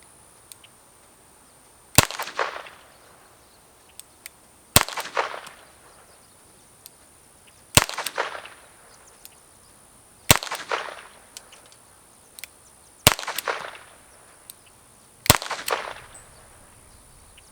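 A Smith & Wesson 432 Ultimate Carry revolver fires .32 Long wadcutters at a range: six sharp, loud reports at even intervals, each followed by a brief ringing tail.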